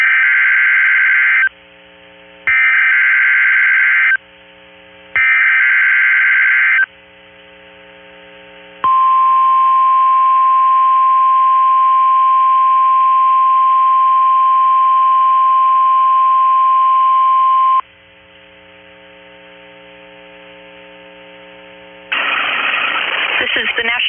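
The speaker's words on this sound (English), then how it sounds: "The signal you just heard is our weekly test of the NOAA Weather Radio Warning Alarm System." A NOAA Weather Radio warning alarm weekly test broadcast: three short loud bursts of data tones, then a long steady piercing alarm tone, then a quieter pause before more noisy data tones.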